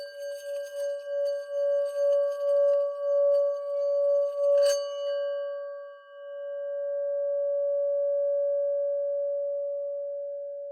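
A rubbed singing bowl builds a pulsing, wavering hum, then a light strike rings out, and the pure tone swells and sustains smoothly to the end.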